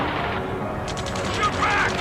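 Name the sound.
machine gun gunfire in Ace Combat 7 video game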